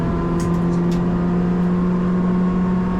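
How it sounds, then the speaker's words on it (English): A Citroën DS3 Cup race car engine drones steadily at high revs on the Oulton Park circuit, a constant tonal hum, loud and close, holding pitch throughout without pause. "And the revs are definitely picking up."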